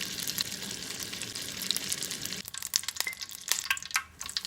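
A tablespoon of butter melts in a pan for a sauce, giving a steady fizzing sizzle that turns into crisper spitting crackles and pops partway through, close and fairly quiet.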